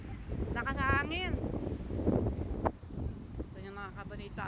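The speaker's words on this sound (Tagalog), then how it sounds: "Lakas sa hangin." Strong wind roars and buffets the microphone among swaying trees, including coconut palms, as people talk over the gusts.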